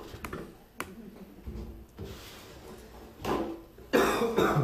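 Single coughs near the start and a louder cough near the end, close and loud in a quiet room, with faint rubbing and handling sounds between them.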